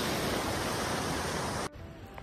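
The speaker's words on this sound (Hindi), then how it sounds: "तो भाई साहब अभी बारिश पड़ रही है," Dense, steady hiss of rain pouring outdoors during a mountain pilgrimage trek, loud and close, cutting off abruptly near the end to a much quieter background.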